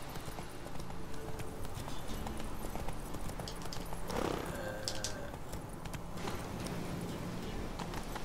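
Hooves of Roach, the horse in The Witcher 3, clip-clopping in a steady rhythmic gait over game ambience, with a brief whoosh midway and faint voices underneath.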